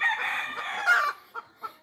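Fighting roosters on a ranch crow loudly and close by, one long drawn-out crow followed by a few shorter clucking calls, with no one talking.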